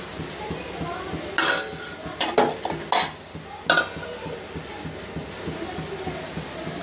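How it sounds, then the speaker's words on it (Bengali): A metal kadai used for cooking dal rattles and scrapes in a small home kitchen, with a cluster of sharp clanks and clinks in the middle over quieter background clatter. "ডালের কড়াইটা রেখে দিয়েছি, মাজবো এখন।"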